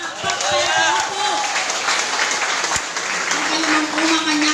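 A church congregation claps and cheers in a dense, steady burst of applause that fills the room, with a voice speaking over the clapping.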